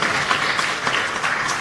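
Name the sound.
audience applause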